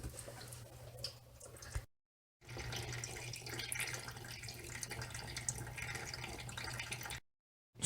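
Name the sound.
fluid draining from a Dodge Grand Caravan during thermostat replacement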